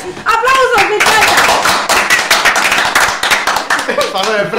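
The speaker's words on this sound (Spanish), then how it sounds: "¡Aplausos, mi chata!" Applause and clapping on a Spanish-language radio show, a dense steady patter of hands filling the whole moment at close range, with voices and a whistle-like tone cutting through.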